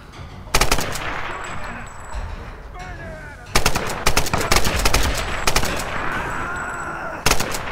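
Video game gunfire in Tomb Raider (2013) comes as loud, rapid automatic bursts in several clusters, with sharp individual shots between quieter stretches of ambient noise.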